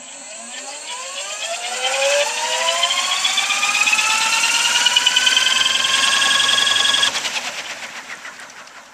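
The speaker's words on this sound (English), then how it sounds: "it sounds smooth and it idles up nice" A Little Wing autogyro engine runs during a prerotator test, its whine climbing in pitch for a couple of seconds, then holding a smooth steady drone before dropping away near the end.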